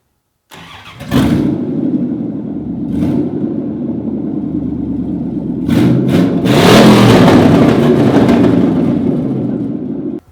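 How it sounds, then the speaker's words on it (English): A loud car engine starts and revs hard several times, the exhaust roaring close by with sharp crackles between revs. "it's really loud, it scares the crap out of people, and it's fun because on decel it pops like crazy"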